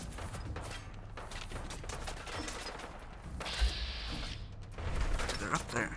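Dense, rapid gunfire in the video game Fallout 4, a continuous stream of shots with mechanical clatter and a few heavier thumps, moderately loud throughout.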